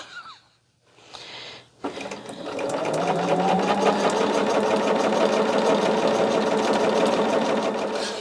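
A sewing machine runs a quilt seam, starting after a few brief clicks and handling sounds, then stitching in a steady, rapid, close whir that continues to the end.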